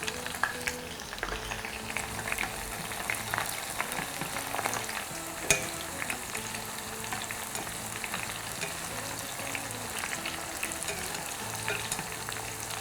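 Scallion leaves frying in hot oil in a home kitchen, a dense, steady sizzle with crackling pops that runs unbroken from start to finish.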